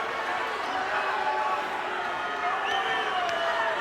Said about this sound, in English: Crowd getting a little bit restless.